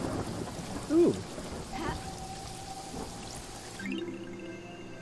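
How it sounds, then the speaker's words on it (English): Rain falling in the Paradise Killer video game, a steady hiss of rainfall with a brief soft vocal exclamation near the start and tonal game sounds drifting over it, no clear thunder crack. "Holy shit, it's raining."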